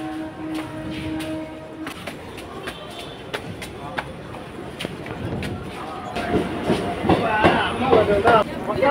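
Train running on a railway near Nemilichery, with a steady rumble and rhythmic clicking of wheels and a rising clatter toward the end, while people talk over it.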